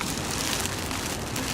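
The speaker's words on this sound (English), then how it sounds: "It's raining." Rain falling on a rainy day, a steady dense hiss of drops that stays even and fairly loud throughout, with no voices.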